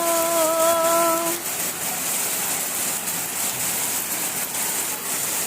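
Dense, steady hiss of heavy rain pouring down, with a brief tonal horn-like sound near the start and no talking.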